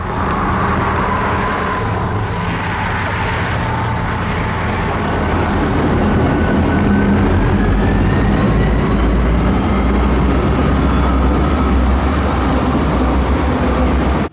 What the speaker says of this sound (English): this glorious shot of the train rolling over the trestle over Mud Creek